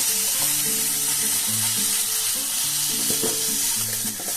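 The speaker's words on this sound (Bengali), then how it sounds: "এবার একটুখানি আমি নাড়াচাড়া করে দেবো এটাকে" Chopped green chillies sizzle steadily in hot oil as they are stirred for chowmein, a continuous bright frying hiss with soft scraping, and faint tonal music running underneath throughout.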